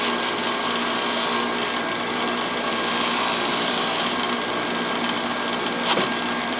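A power tool chamfers the edges of a hardened rubber hammer under light pressure, giving a loud, steady, continuous grinding whir that holds through the whole stretch with no talking.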